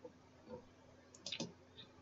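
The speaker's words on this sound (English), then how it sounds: "Click on convert button, and click on step into." A few soft mouse clicks land close together while a convert button is pressed in a Windows Forms app, faint and near over a quiet hum, with no talking.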